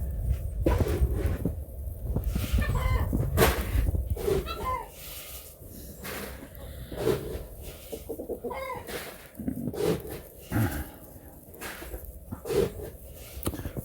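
Chickens and a rooster cluck and call on a snowy farm in short, scattered bursts, fairly close, with faint rustling between the calls and a voice speaking briefly.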